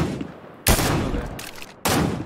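Gunfire in Fortnite during a custom-match session: two sharp, loud bursts of shots, the second longer, over a steady game background with no talk.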